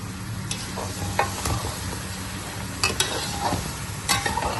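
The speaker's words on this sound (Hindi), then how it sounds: "अब इसको थोड़ा सा और भून लेंगे हम 5 मिनट के लिए, ताकि हमारे आलू अच्छे से गल जाएं" Aloo palak curry of potatoes and spinach sizzles in a pan while a spoon stirs it, soft continuous frying under occasional scraping clicks, with no one talking.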